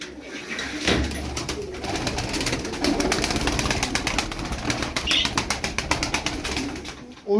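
Freshly fed pigeons coo and flutter their wings nearby, with repeated sharp wing claps and flapping building toward the end over outdoor background noise.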